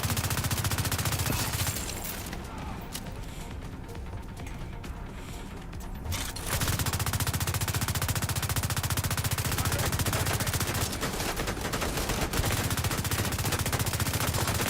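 Heavy gunners in The Division 2 unleash sustained machine gun fire, a dense, loud rattling stream that briefly drops back after two seconds, then resumes and keeps hammering continuously to the end.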